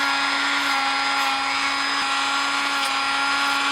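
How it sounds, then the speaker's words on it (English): A Dremel rotary tool running on low while carving foam spikes for a helmet gives a steady, close, high whine with a constant hum and slight shifts as the bit meets the foam. "And I put the Dremel on low."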